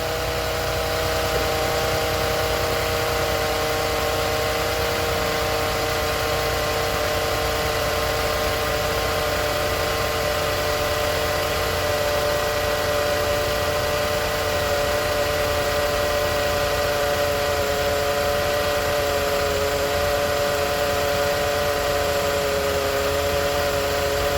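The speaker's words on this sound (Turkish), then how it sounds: "rolantide çalışıyor araç" A Renault Clio 4 idles after a gearbox oil change, a steady, close engine drone with a constant low hum and faint whine that stays level for the whole stretch, with no voices.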